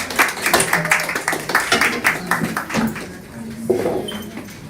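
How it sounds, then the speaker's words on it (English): An audience at an artificial intelligence forum claps to welcome a speaker, a dense burst of applause with a few individual hand claps standing out and faint voices and clinks underneath. "a round of applause, join us and welcome Mr. Nnanna Okorie."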